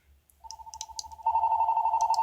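A mobile phone ringtone plays: a steady repeating electronic tone begins softly, then swells into a louder, sustained melodic ring that continues to the end, with faint background noise and no talking.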